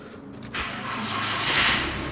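Car engine cranks and catches after a short click, then settles into a steady idle that swells slightly, close by and alone.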